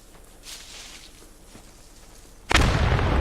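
A grenade goes off in the WWII shooter game Post Scriptum. After a quiet stretch, a single loud, close blast erupts suddenly and leaves a dense roar that rings on to the end.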